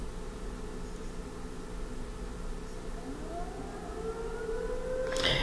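A small-town civil defense siren wails in the distance, its pitch slowly rising as it winds up beneath a steady hiss of background noise.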